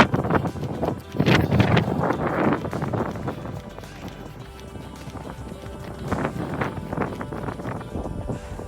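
Outdoor wind buffets a phone microphone on a rural off-grid driveway, creating loud, uneven rumbling gusts that swell and fade throughout.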